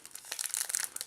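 Art card packaging being opened, a brief close burst of plastic crinkling and crackling, quick irregular rustles over about a second.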